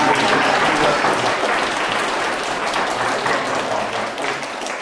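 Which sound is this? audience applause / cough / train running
audience applause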